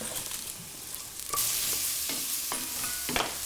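Mushrooms and jade stems drop into a hot pan and cook with a steady sizzle. Stirring clatters and scrapes come through in a few sharper bursts, close and fairly loud, with no talking.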